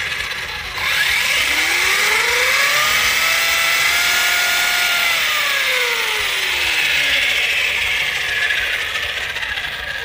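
An Arrma Kraton V4 RC car on a 6-cell 22.2-volt battery revs its electric motor. The whine sweeps up, holds high and sinks again in a long, loud swell, close and without talk.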